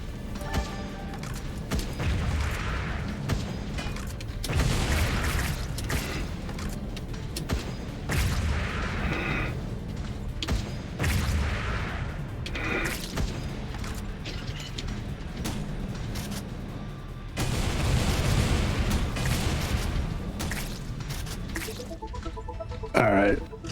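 Grenade explosions in the video game Wall World, heavy booms and thuds recurring through ongoing mechanical rumble, with someone talking over much of it.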